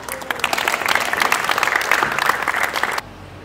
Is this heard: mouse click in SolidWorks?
no